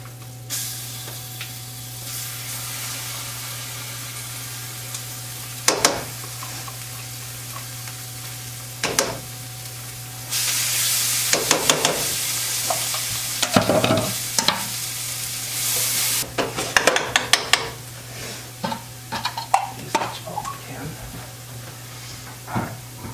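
Sauce with chipotle being stirred in a hot pan over a constant low hum, with scattered utensil clinks, a stretch of loud hissing sizzle in the middle, then a run of quick scraping and tapping strokes near the end.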